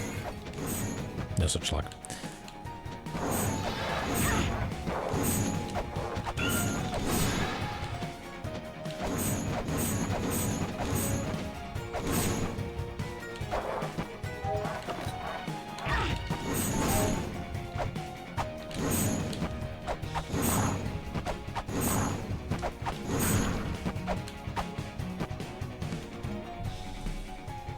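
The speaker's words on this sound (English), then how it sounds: "use the flame sword to bust through the snow." In the video game La-Mulana 2, a flame sword smashes through snow, making repeated crashing, whacking hits in irregular bursts over game sounds, with a speaking voice heard at times.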